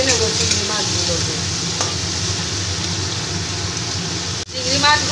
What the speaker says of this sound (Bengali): চিংড়ি মাছগুলোকে আমি সব ভেজে নিচ্ছি।